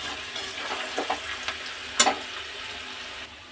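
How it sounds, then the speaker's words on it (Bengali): Vegetables sizzling gently in a pan for fried rice, a soft steady frying hiss with a few light clinks and stirring scrapes, fairly quiet and without talk. "এটাকে আমি হালকা করে একটু ভেজেও নিচ্ছি"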